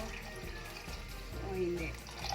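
Water poured into a pot of Filipino sopas, a close, steady splashing pour running the whole time beneath a speaking voice.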